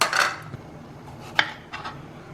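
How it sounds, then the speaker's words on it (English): A kitchen knife chops tomatoes on a board while cooking an egg stir fry: a few sparse, light knocks and scraping clatter, close by and fairly quiet, with no talking. "Now we'll chop the other tomatoes."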